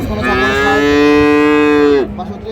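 A dairy cow at a cattle market gives one loud, sustained moo lasting about two seconds, close to the listener and clear of any talk, then stops abruptly.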